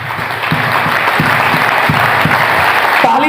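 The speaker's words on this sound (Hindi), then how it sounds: "एक बार जोरदार तालियां अपने लिए बजा लीजिए।" Seminar audience gives loud applause at an outdoor lawn event, a continuous roar of many hands clapping close and strong, holding steady before cutting off abruptly.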